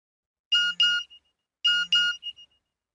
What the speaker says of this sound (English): My mobile phone beeped.